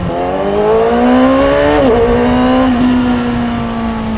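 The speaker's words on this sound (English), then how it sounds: "Little quick shifter action, boys." A Honda CBR600RR sport motorcycle engine revs up and hits quick, clean quick-shifter upshifts while riding, the pitch dropping sharply at each shift before climbing again, loud and close.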